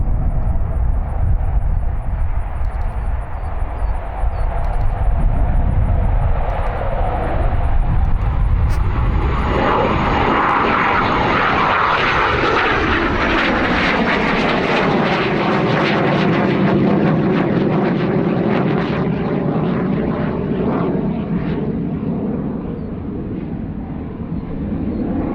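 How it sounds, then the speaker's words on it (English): A-4 Skyhawk jet launching and climbing away, a loud sustained engine roar that swells and sweeps in pitch as the aircraft passes and recedes, steady and continuous throughout. "All right, so the A4 is in flight. That was a good launch."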